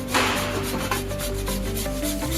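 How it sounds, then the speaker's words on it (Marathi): Boiled potatoes are grated by hand in quick, close rasping strokes for a gram-flour snack, with a faint tonal background beneath. "दोन जी बटाटी आपण घेतलेली आहेत ती आपण आता किसून घेणार आहोत"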